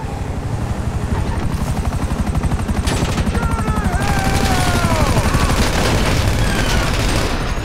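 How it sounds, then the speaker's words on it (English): Helicopter in GTA V flying close overhead, its steady rotor chop pulsing loudly throughout, mixed with bursts of gunfire and game effects. "Chopper!"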